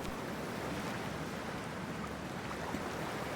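Steady broadband rush of water with no distinct splash, heard as a character wades into freezing water in the video game Cyberpunk 2077 while scuba diving; continuous, close and fairly loud, with no talking.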